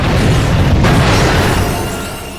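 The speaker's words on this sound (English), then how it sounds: "it just shoots more boomy rockets" Rockets from the mini rocket tube bursting in Ratchet and Clank: Going Commando, a loud, close, broadband boom that rumbles and fades over a couple of seconds.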